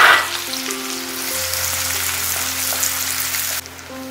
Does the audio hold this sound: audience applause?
no